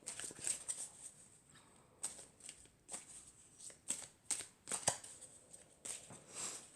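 Oracle of the Elves cards are shuffled by hand in a series of crisp, close riffling bursts separated by short pauses, with no talking over them.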